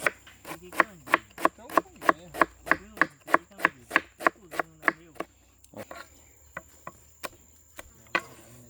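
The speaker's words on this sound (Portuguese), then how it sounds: "Vou cortar aqui essa cebola." Knife chopping through an onion on a board, a fast steady run of about fifteen sharp chops, then a few slower scattered cuts, close and clear with no talk.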